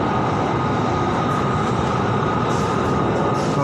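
Inside a moving Bangkok MRT Green Line electric train heading north from Khu Khot toward Mo Chit, a loud, constant rumbling ride noise carries a steady hum.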